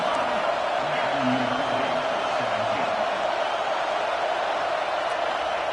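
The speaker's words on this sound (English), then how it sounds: "Third down and the crowd really getting into it." A stadium crowd in the NCAA 26 college football video game roars steadily and loudly on third down, a dense unbroken wall of cheering.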